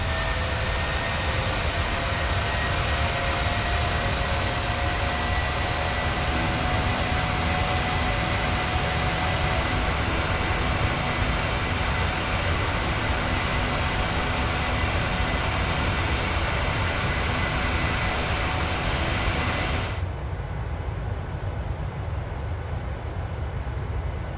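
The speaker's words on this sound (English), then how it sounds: "The aircraft will now climb again." Steady, loud jet-engine roar from an airliner climbing in Microsoft Flight Simulator, a continuous broadband rush that shifts tone partway through as the view changes, with no talking.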